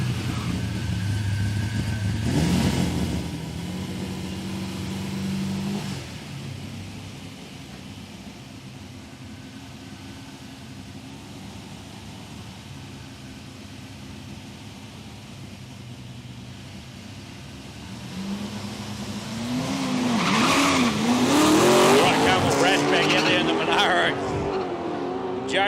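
Drag racing cars with a manual gearbox run side by side down the strip at Palmyra Raceway; engines roar up through the gears, fading mid-run, then rising loudly again with rising revs under an announcer's commentary.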